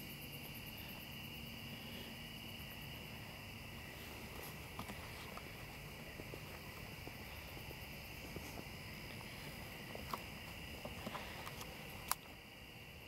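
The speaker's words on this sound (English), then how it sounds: "An airplane's going over their head." An airplane passes high overhead outdoors in a natural setting. Its faint, steady rumble lies under a constant chorus of crickets, with a few soft ticks and taps near the end.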